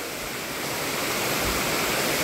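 Gabur-Gabur Falls, a natural waterfall plunging into a deep pool of cold water, gives a steady, loud broadband roar that stays constant throughout with no voices.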